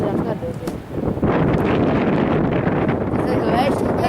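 Wind blows at Valaste waterfall in Estonia, buffeting the microphone in a loud, rough rush that strengthens after the first second and stays strong.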